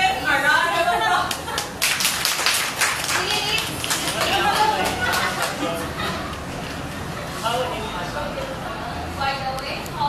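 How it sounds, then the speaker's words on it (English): Classroom applause for student presenters, scattered clapping from a small group mixed with lively young voices and chatter throughout. "Let's give them a round of applause"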